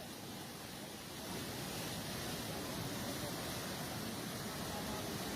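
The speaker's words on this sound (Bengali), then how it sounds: "যত সময় যাচ্ছে ততই পানির প্রবল ব্যাগ বাড়তেছে" Floodwater rushing through a breach in an embankment during heavy rain, a dense, steady roar of churning water that swells after the first second and stays loud and continuous, with no talk.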